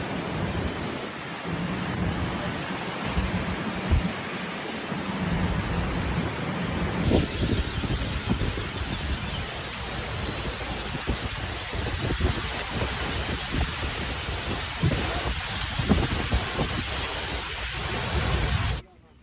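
Heavy rainstorm with thunder in Shanghai, a dense, loud roar of pouring rain with low rumbling underneath, continuous for the whole stretch and ending abruptly.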